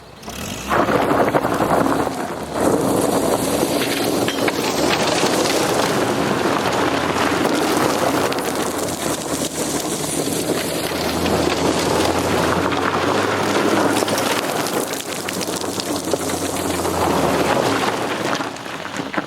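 A Toyota Starlet with a limited-slip differential skids on gravel: a long roaring engine note with steady crunching and hissing of loose stones, rising and falling in surges over nearly twenty seconds, loud and close, with wind buffeting the microphone.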